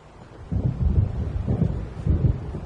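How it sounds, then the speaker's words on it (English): Low thunder from a storm in the game Alan Wake Remastered rolls in a few heavy rumbling swells, close and loud, with no talk over it. "It seems there's a storm coming."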